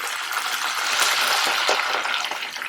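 Water poured into a hot frying pot of okra soup with dried fish, giving a steady broadband hiss and splash that stays loud and continuous throughout, with no talking.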